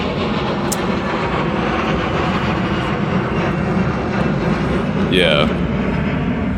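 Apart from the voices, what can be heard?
airplanes flying overhead near Santa Monica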